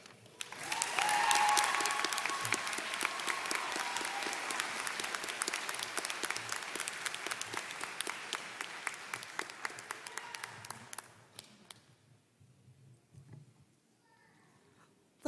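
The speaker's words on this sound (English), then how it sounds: "Let's give Lydia another round of applause." Graduation ceremony audience at a 2022 high school commencement applauding a student speaker: dense, loud clapping from a large crowd sustained for about eleven seconds, then fading abruptly to a few scattered claps and quiet room noise.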